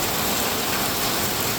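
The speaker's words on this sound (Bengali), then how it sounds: "এত বৃষ্টির পানি।" Heavy rain pouring down in Dhaka city, a dense, loud and unbroken roar of water hitting surfaces that fills the whole stretch, with no voices.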